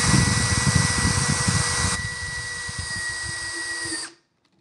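A screw gun drives screws into PVC pipe, a loud continuous high motor whine with a bright tonal hum that shifts pitch partway through, then cuts off abruptly into silence.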